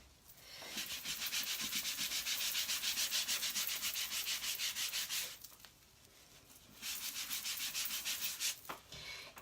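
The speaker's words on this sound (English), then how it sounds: "We can actually give it a little bit of a wipe." Steady rubbing of a cloth wiping residue off a chalk board, close and continuous for about five seconds, a brief pause, then another shorter stretch of wiping.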